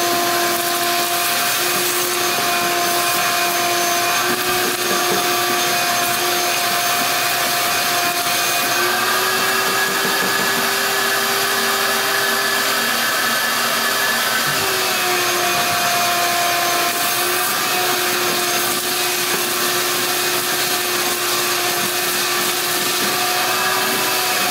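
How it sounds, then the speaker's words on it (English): A vacuum cleaner sucks dirt out of an ATV air filter, a loud steady motor whine that runs without a break, its pitch shifting slightly as the nozzle moves, with no talking. "Let's get the vacuum out and"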